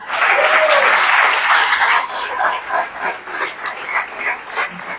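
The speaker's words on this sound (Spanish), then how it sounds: "Que sea fuerte al Señor el aplauso." Congregation applauding in a church, a dense wash of clapping for about two seconds that thins into looser, uneven claps with some voices and noise underneath.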